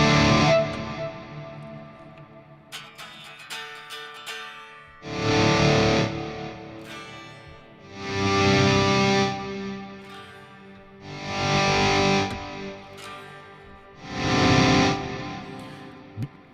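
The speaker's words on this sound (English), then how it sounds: "You can continue to hear the tails of the reverb, the delay, and so on." Distorted electric guitar plays loud swelling chords in four repeated bursts, each fading into lingering reverb and delay tails between them.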